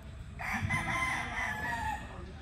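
A gamefowl rooster of a Tornado hatch line crows once, a single fairly faint, hoarse call lasting about two seconds with no talking over it.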